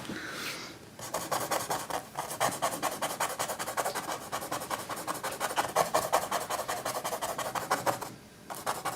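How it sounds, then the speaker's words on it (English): A paintbrush loaded with acrylic paint scrubbed back and forth in quick, steady strokes for most of the stretch, a close, rhythmic bristly rubbing with short quieter gaps at the start and end. "Just scrubbing out what's on my brush there."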